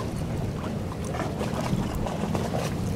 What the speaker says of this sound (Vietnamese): âm thanh của những cái tiếng động cơ ở trong này là còn nghe nữa các bạn